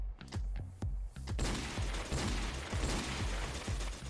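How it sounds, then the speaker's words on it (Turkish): Gunfire in a video game, an urban firefight: sharp separate shots at first, then dense, rapid overlapping bursts of automatic fire rattling continuously, loud and close. "Her yerden silah sesi geliyor"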